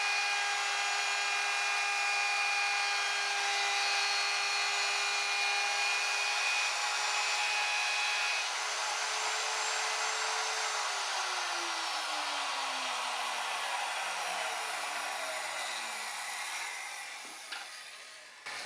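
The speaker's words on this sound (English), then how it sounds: "I'm using a 1/4 inch straight cutting bit to route a groove" Router with a 1/4 inch straight bit cutting a groove in wood for a table saw outfeed table, a long, steady high-pitched whine that holds for most of the stretch, then winds down near the end.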